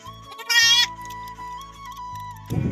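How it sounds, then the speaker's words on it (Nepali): A goat and its newborn kid bleat close by at home, with one loud wavering bleat followed later by a shorter cry, over a steady low hum. "बाख्राले बच्चा पारेछ"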